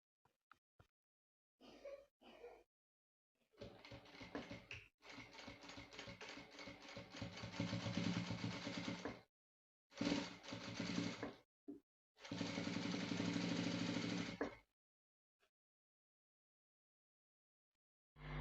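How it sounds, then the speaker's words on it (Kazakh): A sewing machine stitching the side hem of curtain fabric, running in bursts of steady mechanical whirring and rattling, separated by short pauses and brief handling noises. "Енді жанын 8 сантиметр қайырып тігіп аламыз"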